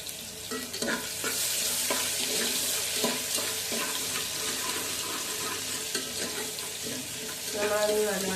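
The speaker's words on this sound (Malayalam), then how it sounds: "അപ്പോൾ ഓയിൽ ചൂടായി വരുമ്പോൾ നമ്മൾ അതിലേക്ക് കുറച്ച് ഉലുവ ഇട്ട് കൊടുത്തിട്ടുണ്ട്" Fenugreek seeds with ginger and garlic fry in hot oil for a chicken curry, giving a loud, steady, close sizzle with scraping stirring strokes over it throughout.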